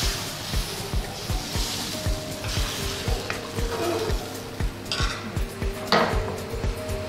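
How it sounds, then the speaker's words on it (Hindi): Neer dosa batter meets a hot pan with a steady sizzle, accompanied by a fast, regular pattern of light scraping and tapping from a utensil against the pan, heard close and alone. "हमारा पैन गरम हो चुका है, अभी हम इसमें डालेंगे हमारा बैटर।"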